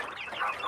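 A young chicken gives a short, soft cluck, a single brief chirpy call close by with no other sound around it.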